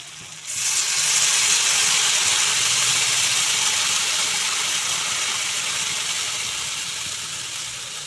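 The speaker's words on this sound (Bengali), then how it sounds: "আমি এতে গরম জল দিয়েছি।" Hot water is poured into a hot pan of giant freshwater prawns and radish on a gas flame. A loud, sudden hiss and sizzle bursts in and holds steady, then fades slowly, with no voices.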